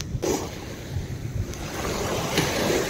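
Sea waves wash onto a quiet village beach in Singapore, a steady rushing surf mixed with wind buffeting the microphone, close and continuous.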